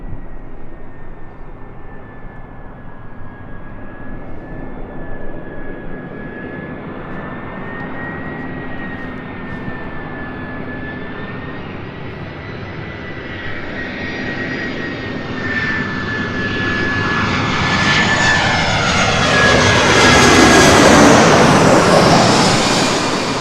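Jet airliners at LAX roll and climb out in a continuous loud roar, a steady high whine sitting over the broadband rumble and swelling to a peak near the end as one passes close.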